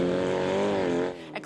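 Battered old cars racing on a dirt field track with sharp turns, a loud engine whine rising and falling as a car roars past nearby, then fading at the end.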